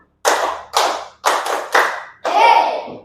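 A classroom group claps in unison during a clapping game led by a teacher: five sharp, loud bursts of many hands in an uneven rhythm, followed by a longer shout from the group.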